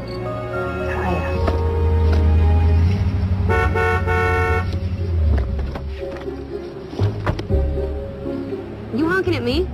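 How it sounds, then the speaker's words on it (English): A car horn honks a few times amid a steady low engine rumble and street noise, with people talking over it. "You honking at me?"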